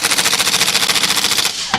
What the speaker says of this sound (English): we will use the impact and we'll finish it home